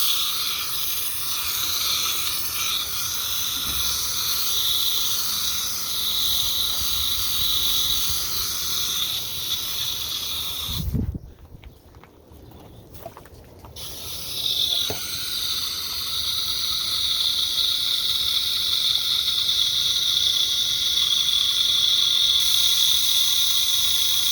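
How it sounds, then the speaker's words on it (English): Water sprays onto Beauregard sweet potato plants growing in buckets. The close, steady hiss cuts out briefly partway through, then resumes and carries on to the end, with no talk. "Still watering the first of them in."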